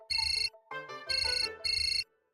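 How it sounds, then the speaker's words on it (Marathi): A mobile phone ringtone plays in a home scene from a Marathi TV drama, sounding as three loud, even bursts of bright electronic melody with a shorter tonal phrase between them, then fading out. "फोन वाजतोय तुमचा."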